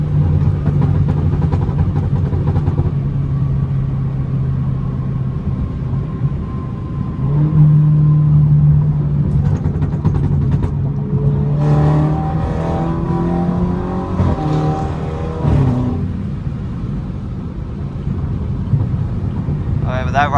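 A Stage 2 BMW 330i with FBO accelerates hard on a night drive, its engine droning loudly and climbing in pitch through repeated pulls and shifts, with people talking over the cabin noise.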